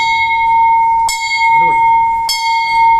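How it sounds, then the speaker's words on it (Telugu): The Navadurga temple bell at the Navaratna Mandapam of Sri Veerabrahmendra Swamy Math is struck twice, each ring a sharp clang followed by a long, sustained metallic hum, with a brief murmur of voice between strikes. "అది నవదుర్గల గంట ఘంటానాదం వినండి ఒకసారి ఓంకార శబ్దంతో"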